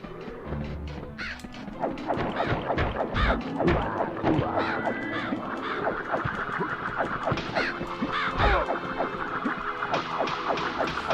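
Crows cawing repeatedly in the PS1 game MediEvil, harsh calls overlapping against busy game music and effects, loud and close throughout.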